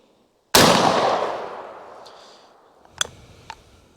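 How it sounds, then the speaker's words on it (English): A .410 shotgun loaded with number 4 shot fires a single loud blast outdoors at steel plate targets, and the report rolls away slowly. About two and a half seconds later, two faint metallic clanks follow. "going to start off with some number 4 shot, I believe, out of this 410"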